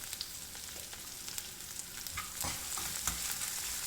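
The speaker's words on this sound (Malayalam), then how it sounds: "പച്ചമുളക് ഇതെല്ലാം നമുക്കൊന്ന് നല്ലതുപോലെ വഴറ്റി കൊടുക്കാം" Green chillies and ginger sautéed with a little salt in a pan for pickle, giving a close, quiet sizzle with scraping and knocking from stirring, busier toward the end.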